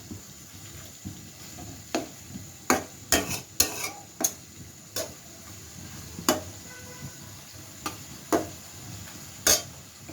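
Eggplant pieces being stirred with spices in a frying pan over a low flame for a Bangladeshi curry: a spatula scrapes and taps the pan in irregular, sharp clicks over a faint background hiss.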